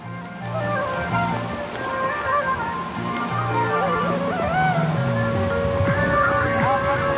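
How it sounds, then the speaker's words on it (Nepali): Bireko stream rushing steadily with a constant broadband wash of flowing water, heard from a trail in the hills between Achham and Bajura, with people talking over it throughout. "यो चाहिँ बिरेको खोला गाइजहरू।"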